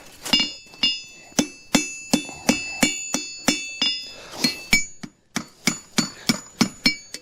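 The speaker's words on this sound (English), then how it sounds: "My fancy hammer here." A hammer rings sharply on a horseshoe on an anvil, about eighteen even, steady blows with a short pause partway through. Each strike is loud and close, with a bright metallic ring.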